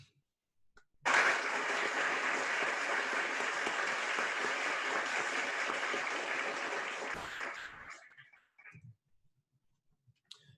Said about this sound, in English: Let's give a round of applause to Miss Jewel Stiefel.